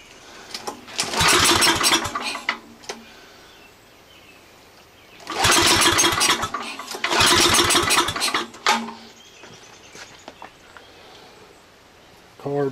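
A Tecumseh 8HP engine on a Troybilt Horse tiller cold-starting: three loud pull-start bursts of chugging engine noise, each sputtering briefly and dying, separated by quieter pauses.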